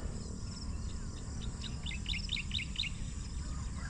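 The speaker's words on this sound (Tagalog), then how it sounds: "Pakinggan niya yung huni ng ibon." Birds sing and chirp in open countryside farmland in Bulacan, a quick run of bright, repeated tweets rising over a steady low ambient hum, fairly distant and soft.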